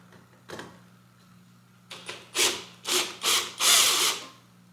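Several short, rough grinding bursts from a power drill, spaced about half a second apart and growing louder, after a couple of faint taps.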